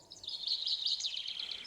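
A phone with a chirping birdsong ringtone goes off during a Mass at a collegiate church, giving a continuous high twittering trill at moderate volume over a quiet room.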